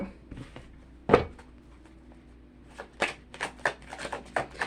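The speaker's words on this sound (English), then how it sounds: "I'll pause in between shuffling my decks too" Card decks are shuffled close by: one sharp riffle, a pause, then a quick series of crisp snapping riffles and taps, with no talking.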